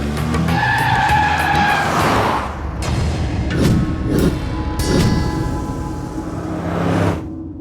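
A car skids loudly as it pulls away, with tires squealing in a long, continuous screech for about seven seconds, broken by a few dull thumps, before cutting off abruptly.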